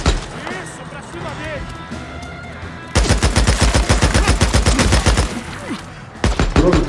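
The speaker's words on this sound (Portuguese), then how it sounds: "Quem é que tá atirando" Gunfire in the video game Days Gone: several seconds of shouted voices and scattered noise, then a loud, sustained automatic barrage of fast shots, a short lull, and another burst at the end.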